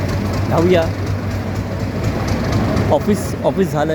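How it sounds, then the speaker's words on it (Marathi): Mumbai local train noise on a busy railway station platform, a continuous low rumble with engine tones and faint squeals, heard under people talking nearby. "ट्रेनचे आवाज चालू आहेत, ट्रेन येणारच आहे आणि अनाऊन्समेंट होत आहे"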